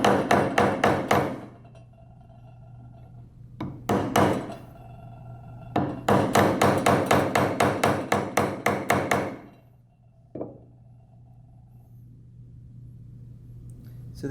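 A 1/2-inch chisel struck repeatedly while cutting mortises for a Frank Lloyd Wright inspired wooden stool: loud, close wooden knocks in fast bursts, then a steady run of evenly spaced blows, with a quiet hum between.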